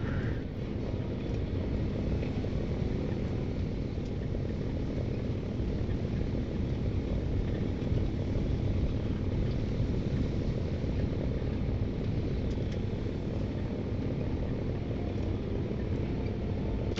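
The Butcher Bird aircraft in a video game drones steadily through the whole stretch while flying over the Channel, with a dense, unbroken engine roar at an even level.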